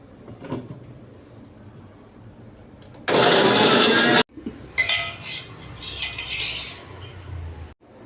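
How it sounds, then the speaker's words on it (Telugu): A mixer grinder blends fried coconut and cooked tomato into a chutney paste. It runs in two loud, whirring bursts separated by a short pause, with quiet kitchen clatter before the first burst. No one speaks. "దీన్ని మంచిగా మిక్సీలో వేసుకొని పేస్ట్లా చేసుకోవాలి."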